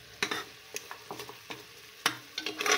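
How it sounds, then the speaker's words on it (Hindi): Mutton fried with yogurt in a pot, heard as soft sizzling under repeated scraping and stirring taps from a spoon, close and fairly quiet, without talk. "दही डाल के आपने गोश्त को अच्छी तरह से फ्राई करना है"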